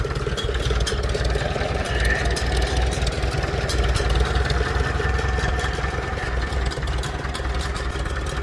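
Farmall Super C tractor engine idling low, a steady loud rhythmic chugging putter that runs unbroken throughout with no voices.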